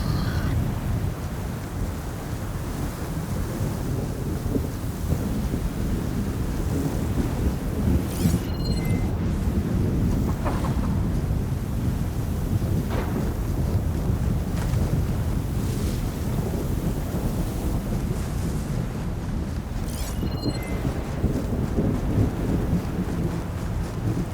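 Storm in Horizon Forbidden West, with continuous heavy wind and a surf-like rushing roar that holds steady and loud, broken by a few faint crackling bursts, and no one speaking.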